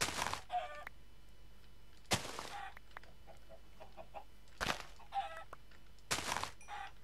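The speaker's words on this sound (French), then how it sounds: "Il y a des poules." Chickens in a video game clucking in short bursts, with several sharp broadband noise bursts interrupting at intervals against a quiet background.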